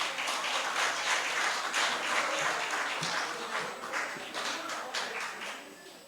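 Steady applause from an indoor audience at a medical alumni gathering, many hands clapping in a dense, continuous patter that slowly thins toward the end.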